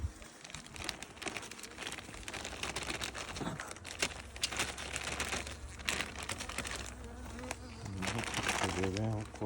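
Bees in an opened beehive being inspected and given solid feed, a dense close buzzing hum with crinkling and handling noises over it and a voice surfacing briefly.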